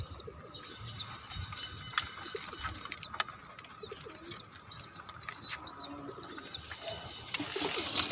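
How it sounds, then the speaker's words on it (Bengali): Pigeons coo softly on a rooftop vegetable garden, alongside other small bird calls and faint mechanical rustling, with no talk. "কবুতর,"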